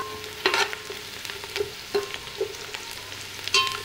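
Garlic and three green chillies sauté in a pan with onions, a close, continuous sizzle broken by several scraping stirs of a spoon, with no voices.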